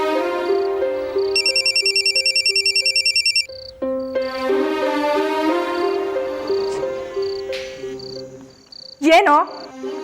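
A mobile phone ringtone plays loudly, a rapid trilling burst followed by a melodic tune, with voices talking over parts of it.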